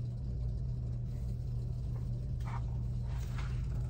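A handheld garment steamer running on a wig: a steady low hum and rumble throughout, with a couple of short hissing bursts of steam near the end, close and continuous.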